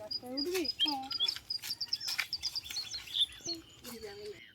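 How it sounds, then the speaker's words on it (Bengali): Birds chirp and call repeatedly in a cashew garden in Medinipur, bright tweets scattered through the stretch alongside quiet human voices. "পাখির ডাক শুনতে পাচ্ছিলাম।"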